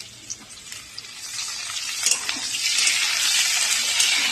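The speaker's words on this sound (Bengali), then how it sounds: "দেখো আলুটা ভাজা হয়ে গেছে এবারে আমি চিংড়ি মাছ দেবো" Potatoes fry in a pan before prawns go in, giving a soft sizzle that starts with a few light clicks and stirring taps and then settles into a steadier hiss. No one speaks.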